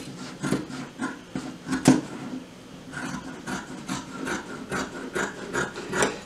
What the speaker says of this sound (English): go ahead and trim down that seam allowance to about 1/4 of an inch